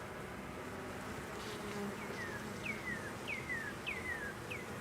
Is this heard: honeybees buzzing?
yes